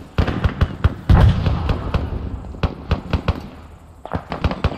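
Explosions from an airstrike in the military video game Arma 3: a dense run of sharp booms and crackling bursts, several loud blasts close together with a heavy low thump early on, continuing irregularly with no talk.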